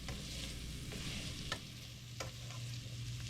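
Kielbasa, potatoes and green beans cook together in a pan, a constant close sizzle broken by a few sharp scraping stirs of a utensil.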